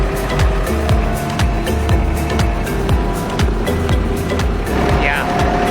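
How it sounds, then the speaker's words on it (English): A fishing boat engine drones steadily and loudly at a close, even rhythm after being cranked up, with no talking over it. "Cranking up the engine, we're on our way."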